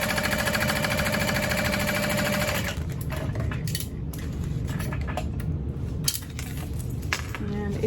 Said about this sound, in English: And then we're gonna sew all the way down.